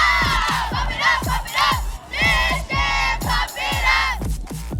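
Mission High School cheering squad at a football game chanting spirit cheers in unison, loud rhythmic shouted phrases repeating in quick bursts from a crowd of young voices, close and continuous.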